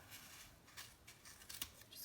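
Scissors snipping through yarn wound on a cardboard pompom maker, several quiet close cuts in quick succession with no talking.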